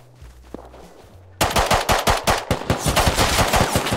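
Close, loud bursts of rapid automatic gunfire in a survival video game break in suddenly after a quiet, humming lull and keep hammering in quick, evenly spaced shots to the end.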